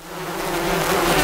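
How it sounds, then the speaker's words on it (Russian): A bee buzzing close by, a steady droning hum that grows slightly louder over a brief moment. "Пчела!"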